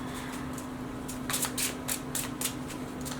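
Tarot cards are riffled and shuffled by hand, several crisp, papery bursts of flicking close up, clustered in a quick rhythm over a faint steady hum.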